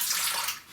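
A wet shaving brush is squeezed out over a shaving bowl, and a brief, close splash and trickle of water runs out for under a second.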